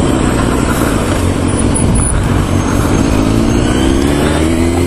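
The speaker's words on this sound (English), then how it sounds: "Hello, bus. And car behind the bus." A bus with a car following it passes on Marine Drive in Brighton, a loud, broad rushing engine and road roar heard close up, continuous through the whole stretch with no talking.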